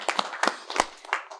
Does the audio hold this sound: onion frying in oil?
no